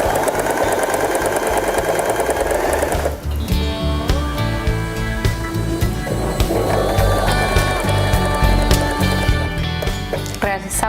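A Janome 3016 sewing machine stitches fabric with an elastic strip held taut, its steady rapid motor whir running throughout with a brief pause near the start, loud and close, with faint background sounds.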